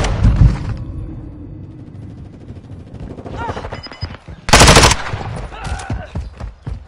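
Rapid video game gunfire rattles in bursts, with a sharp, loud volley near the middle and more shots after it, mixed with game voice callouts and player chatter.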